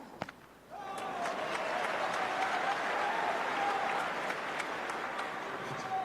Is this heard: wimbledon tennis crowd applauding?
yes